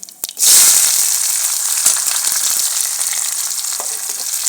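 Green chili and onion hit hot ghee with a loud, bright sizzle that bursts in after a brief clatter, then holds as a steady, dense crackle with small spits throughout.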